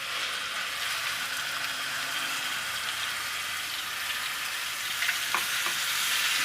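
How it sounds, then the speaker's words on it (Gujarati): Gravy is added to bottle gourd kofta in a hot pan, giving a loud, steady sizzle with faint stirring scrapes near the end, with no talk. "બધું મિક્સ થઈ ગયું છે તો આપણે હવે આ આપણી ગ્રેવી નાખી દેવું આમાં"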